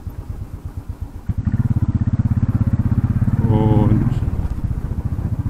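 A Royal Enfield motorcycle's single-cylinder engine thumps close and loud while riding, idling briefly before a steady, rapid pulsing that swells around the midpoint, with someone talking briefly.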